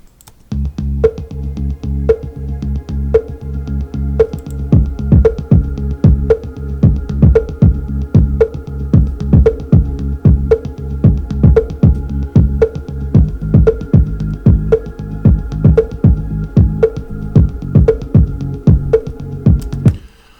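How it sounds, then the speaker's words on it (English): Heartbeat-like beat from a song: deep, regular thumping pulses repeat steadily about once a second for twenty seconds, loud and prominent, with a soft hum underneath and no voices. "And the beat is the sort of heartbeat."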